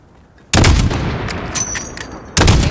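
Gunfire in the video game Call of Duty: Modern Warfare: a loud, close shot cracks out and rolls into a long decaying echo, then a second heavy shot lands right at the end.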